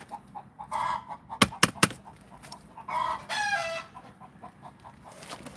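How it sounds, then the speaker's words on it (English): Chickens clucking and roosters crowing in a backyard garden, with two sharp nearby bursts and a long crow standing out over steady low clucking. "the crowing and everything, that be the roosters"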